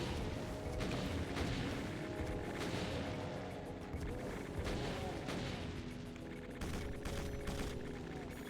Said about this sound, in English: You can hear the chain gunners.